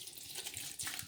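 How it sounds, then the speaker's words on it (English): White distilled vinegar is poured onto underarm-stained fabric, a soft, faint liquid trickle and splash that continues steadily for about a second. "So essentially I am going to pour in some white distilled vinegar"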